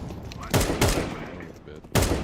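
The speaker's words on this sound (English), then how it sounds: "I'm throwing a grenade." A grenade thrown in a video game, with loud explosive blasts sounding up close, two heavy booms close together and then a third, over a rumbling background.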